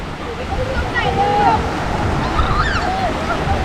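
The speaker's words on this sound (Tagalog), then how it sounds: "Ayog saba nga padung na ang balod." Ocean waves roll in at Sta. Cruz with a constant loud broadband wash of surf and wind, and faint voices or calls drift over the top.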